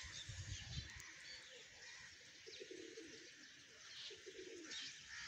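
Soft, repeated cooing of a pigeon over steady outdoor background noise, with occasional faint chirps nearby.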